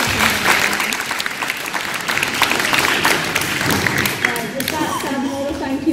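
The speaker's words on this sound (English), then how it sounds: "So give yourself a massive round of applause." Loud, dense applause from a crowd at a Somali community event in Cardiff, continuous clapping filling the whole stretch with scattered voices and cheers underneath, close and steady.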